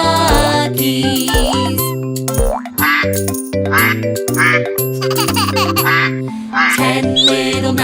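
Cartoon ducks quack in a bouncy children's nursery rhyme about counting little duckies, with bright synth music, boing-like effects and tinkling accents, loud and continuous throughout.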